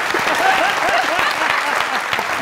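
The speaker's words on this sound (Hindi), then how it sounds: "तालियां भाई के लिए।" Studio audience applause on a Pakistani comedy talk show, a brisk, dense burst of clapping close and loud, with a few voices and cheers mixed in.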